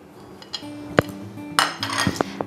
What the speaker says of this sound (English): So I'm going to start by putting the butter into the saucepan and just roughly chop it.